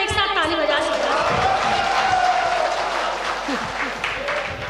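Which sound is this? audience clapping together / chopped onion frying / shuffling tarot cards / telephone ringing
audience clapping together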